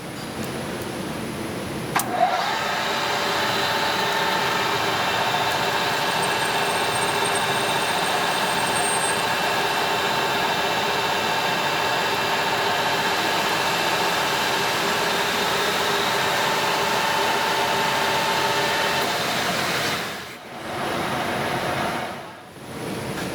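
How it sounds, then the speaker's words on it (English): A lathe cuts an 11-degree protected target crown on the muzzle of a custom 7mm PRC rifle barrel, giving a steady, loud mechanical whine and hum for about twenty seconds before dipping and cutting out near the end. "I'm gonna cut a muzzle crown. I'm gonna do like a 11-degree target crown that's protected."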